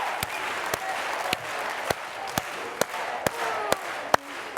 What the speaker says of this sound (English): let's do it with an organized hand clap all together